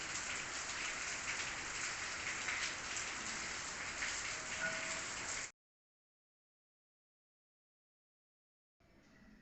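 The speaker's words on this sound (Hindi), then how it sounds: "अब भी हमारे यहाँ पे बारिश हो रही है, पूरी रात भर बारिश हुई है और अब भी हो रही है हमारे यहाँ पे।" Steady heavy rain during a days-long downpour pours down continuously for several seconds, dense and hissing, then cuts to silence before faint rain returns briefly at the end.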